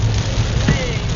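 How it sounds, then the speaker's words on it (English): Heavy downpour on a rainy New Zealand roadside near Rotorua, a dense steady hiss filling the short moment, with a low rumble of traffic or engines beneath and no clear speech. "It's pissing down."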